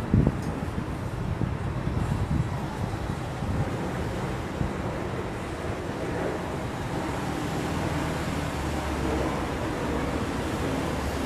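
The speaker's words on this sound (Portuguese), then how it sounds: "Tá muito quente. Tem muito vento," Strong wind blows outdoors on a hot day, rumbling and buffeting steadily across the microphone with a broad rushing roar.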